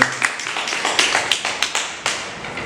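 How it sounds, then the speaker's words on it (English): A small audience gives a brief round of applause for a guest walking up to speak at a live radio podcast event, with sparse, distinct hand claps tapping out unevenly, close and fairly loud, no talking over them. "give Mr. Nash a round of applause as he comes to the"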